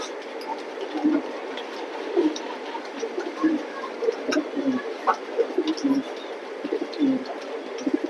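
Pigeons released by a seller, racing pigeons, flutter and coo in repeated short bursts over a steady background hum, fairly close, with soft calls scattered irregularly.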